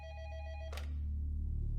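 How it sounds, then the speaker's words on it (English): A desk telephone at a police department rings with a steady electronic trill, then a short burst of noise cuts it off as it is picked up, leaving a low hum beneath. "Greg Myers of the Monroe Police Department took a call at his desk."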